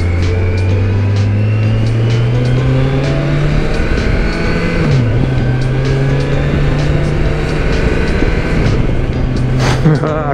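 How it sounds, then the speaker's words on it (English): A 2021 Kawasaki Versys 1000 SE LT+ motorcycle accelerating hard, its loud close engine note climbing and then dropping sharply at two quick-shifter upshifts, with steady wind rush throughout. "Quick shifter. Boom, boom."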